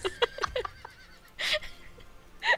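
Horses whinny several times, two or three short neighs and then a louder pair farther on, with faint hoof and stable noise between them.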